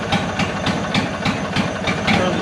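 A riding machine's small engine runs steadily close by with a regular thumping pulse and hiss, loud and continuous, no talk over it.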